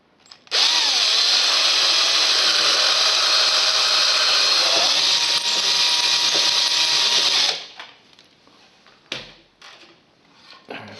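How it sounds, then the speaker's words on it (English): A power drill whines loudly at a steady pitch for about seven seconds as it bores through a wooden drawer for a handle screw, then stops, followed by a few light knocks and handling sounds. "we're going to next have to drill through here"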